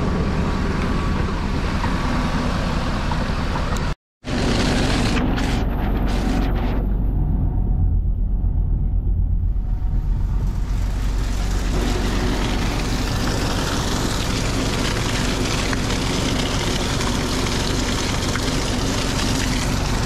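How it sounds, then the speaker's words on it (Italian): Tractor driving a grape crusher with a screw auger during the grape harvest: a steady, loud mechanical rumble and churning that runs throughout, with one brief dropout near the start. "il trattore con la gramola, con la vite senza fine"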